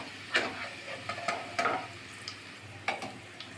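Fried shallots or potatoes cook in hot oil for a chicken dum biryani, with soft sizzling and a few stirring clicks and scrapes in a quiet kitchen.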